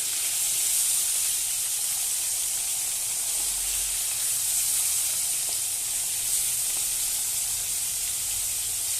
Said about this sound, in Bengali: এবার আমি ভালোভাবে ভেজে নেব লাল করে